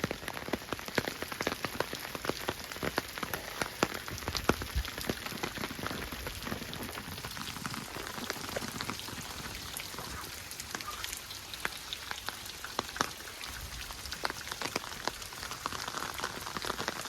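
Steady rain falling outdoors at Hearst beach in San Simeon, California, pattering on surfaces with dense, even drops throughout, a continuous moderate wash with no voices.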